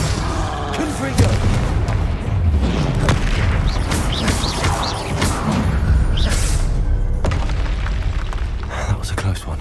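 A Confringo blasting spell explodes in Hogwarts Legacy as heavy booms and whooshing blasts over a busy, rumbling fight, with a voice talking through much of it.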